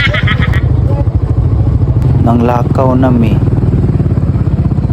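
A motorcycle ride along a rural road: a loud, steady engine drone that runs the whole time, with someone talking briefly over it.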